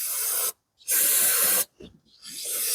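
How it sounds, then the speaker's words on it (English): Brake cleaner sprayed from an aerosol can during a car repair, in three loud hissing bursts separated by short silences. "Some good old brake clean."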